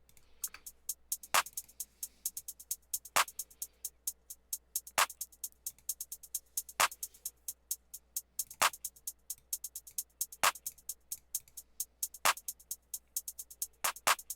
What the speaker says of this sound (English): And that all starts with the hat and the clap.